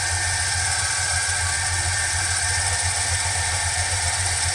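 A 1977 Chevrolet squarebody truck engine idles at fast idle, a steady, loud, close rumbling drone with constant vibration and hiss, unbroken and with no voices over it.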